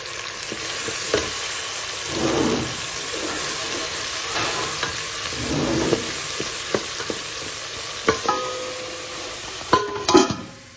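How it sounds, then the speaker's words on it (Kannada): Onion and curry leaves frying in a mustard-seed tempering, a steady low sizzle with occasional stirring scrapes and a few sharper clinks near the end, no voices. "ಸೊ ಸಾಸಿವೆ ಆದಮೇಲೆ ಇವಾಗ ಒಂದು ಸ್ವಲ್ಪ ಈರುಳ್ಳಿ ಹಾಗೂ ಕರಿಬೇವಿನ ಸೊಪ್ಪನ್ನ ಹಾಕಿ ಆ್ಯಂಡ್ ಸ್ವಲ್ಪ ಚೆನ್ನಾಗಿ ಫ್ರೈ ಮಾಡಿ"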